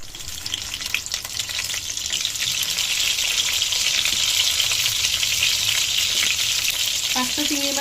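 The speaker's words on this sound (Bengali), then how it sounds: "এখন এই তেলের মধ্যেই আমি এই যে এই চিংড়ি মাছগুলো একটু ভেজে নেব।" Shrimp frying in hot oil, a loud continuous sizzle that swells after the first couple of seconds and stays dense, with a few faint clinks near the end.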